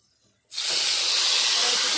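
Green pea paste hits a hot kadai of oil with a sudden loud, steady sizzle that starts after a brief quiet moment and hisses on evenly to the end.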